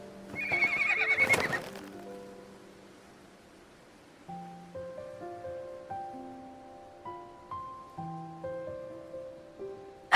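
In the video game Love and Deepspace, a horse gives a loud whinny, then hooves clip-clop at an even trotting rhythm over soft musical tones.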